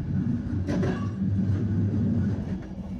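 A Swedish-designed local train rolls through mountains in Romania, heard from the rear carriage as a steady low rumble of wheels on track with faint rattles and clicks, continuous and fairly loud.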